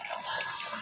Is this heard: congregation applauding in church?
no